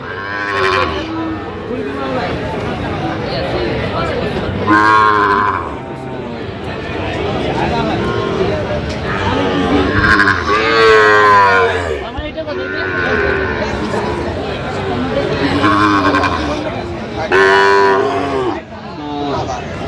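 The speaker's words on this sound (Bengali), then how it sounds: "এখানে যে গরুগুলো কিনছেন শাহাদ ভাই" Sahiwal cattle moo repeatedly at a cattle market in Dhaka, loud and close, over a noisy crowd of people talking in the background throughout.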